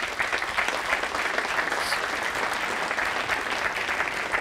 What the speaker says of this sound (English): everyone's going to give you a thunderous round of applause